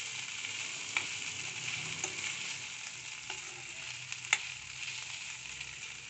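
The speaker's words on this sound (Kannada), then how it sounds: "ಆಲೂಗೆಡ್ಡೆಯನ್ನು ಒಮ್ಮೆ ಮಿಕ್ಸ್ ಮಾಡಿಕೊಂಡು ಇದಕ್ಕೆ ಫ್ರೈ ಮಾಡಿಟ್ಟುಕೊಂಡಿರುವಂಥ ಬೆಂಡೆಕಾಯಿ ಹೋಳುಗಳನ್ನು ಹಾಕಿ ಚೆನ್ನಾಗಿ ಮಿಕ್ಸ್ ಮಾಡಿಕೊಳ್ಳೋಣ." Potatoes and fried okra pieces being stirred in a pan, a soft steady sizzle with a few light spoon taps and scrapes against the pan, close and fairly quiet, with no talk.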